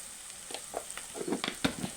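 Beaten eggs hit a pan of fried onions and sizzle quietly, with scattered soft pops and crackles building toward the end, close by and with no talk.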